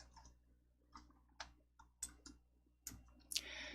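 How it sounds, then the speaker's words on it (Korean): A computer mouse clicks faintly and close by, giving a few soft ticks, including quick paired double-clicks, against a quiet room with no talking. "더블 클릭 열어주세요."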